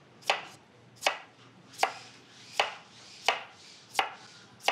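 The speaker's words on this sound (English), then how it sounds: "So I'm gonna slice these up" Potatoes being sliced thinly with a knife on a cutting board, six crisp chops at an even, unhurried pace, close and clear with no voices.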